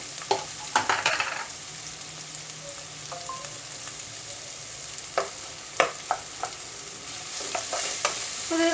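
Chopped onions and curry leaves sizzle and are stirred in a pan for a Kerala egg roast, a steady soft frying hiss broken by scattered scraping clicks of the spoon, close and without talk.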